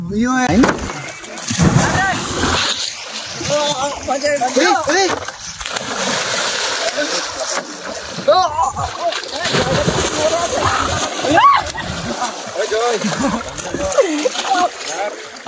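People jumping and splashing in the Mahananda river, with repeated loud splashes and sloshing water under frequent chatter and shouting voices nearby.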